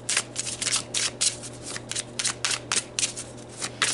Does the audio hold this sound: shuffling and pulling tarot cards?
yes